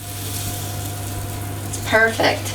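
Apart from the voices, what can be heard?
Yorkshire pudding batter sizzling in a hot pan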